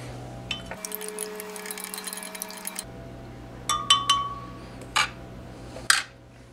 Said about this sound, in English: I'm thinking maybe if I add some of the milk to it, give that a stir, that might help things out.